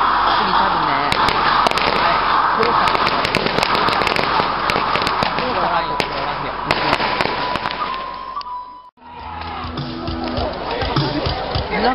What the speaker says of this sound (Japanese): 3 番手おばた隊の黒備えかかれ撃て。